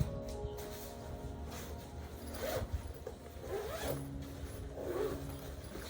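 Zipper on a carry-on travel bag's laptop pouch flap being pulled open in several short drawn-out runs, close and fairly quiet, with no talking.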